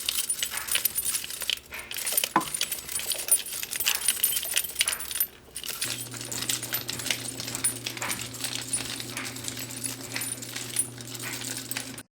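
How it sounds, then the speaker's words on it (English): Keys jangle and clink repeatedly in quick bursts, close and fairly loud, with a faint steady hum in the background during the second half. "These key collectors threaten any attackers by fiercely jiggling their keys at them."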